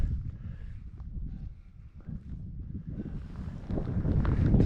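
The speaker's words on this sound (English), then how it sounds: "The wind is still blowing" Wind gusts outdoors after a snow squall, a low rumbling buffet against the microphone that rises and falls, growing stronger toward the end, with no talking.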